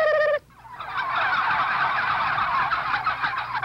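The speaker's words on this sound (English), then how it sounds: "If you talk turkey, turkeys talk back." Turkeys at Cuero, Texas, gobbling loudly and close, a brief sharp gobble followed by a dense, continuous chorus of many birds, with no talk.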